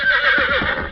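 A horse whinnies loudly and close in a 1944 Lone Ranger radio drama, one long wavering neigh over faint clip-clop of hooves, with no talk over it.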